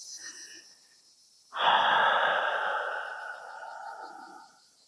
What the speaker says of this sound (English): 2 more breaths for me.